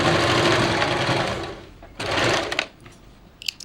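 A sewing machine stitches the edge of a silk pattu pavadai in a rapid, close run of about a second and a half, then gives a second short burst, with a few light clicks after it.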